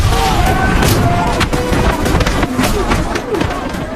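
Chaotic bursts of booms and gunfire-like blasts from a bomb explosion in an action film, loud and dense with rapid cracks and rumbling throughout.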